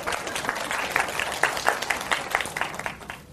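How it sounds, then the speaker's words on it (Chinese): A room full of people clapping together, steady and lively for about three seconds before tapering off. "好，来鼓掌"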